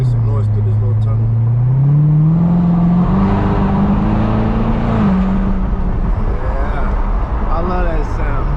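A Chevrolet SS-badged car engine revs loudly inside a car wash tunnel, its deep rumble climbing in pitch and echoing off the walls as a voice talks over it.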